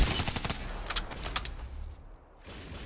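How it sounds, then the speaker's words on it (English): Gunfire from a Black Ops 3 hardcore free-for-all match: a quick burst of rattling shots followed by a few separate reports, then a fading ambient rumble. "I see that guy shooting behind me"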